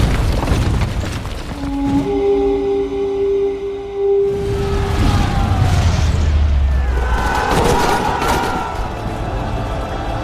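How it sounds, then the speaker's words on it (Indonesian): A bomb blast rumbles in a dense, dramatic battle scene, a deep boom swelling midway over continuous layered noise and music-like tones, loud and sustained with no clear talk. "sebuah bom yang dipasang oleh pasukan Afghanistan akhirnya meledak"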